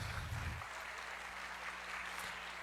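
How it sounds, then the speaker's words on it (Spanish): A crowd claps in a steady, dense burst of applause at a church celebration night, with a brief low rumble at the start and clapping continuing evenly throughout. "Démosle un fuerte aplauso."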